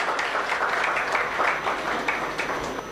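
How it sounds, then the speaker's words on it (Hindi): Audience applause at a comedy poetry recital, a dense, steady patter of many hands clapping continuously at moderate distance. "डंडा लेके तालियां बजा दो"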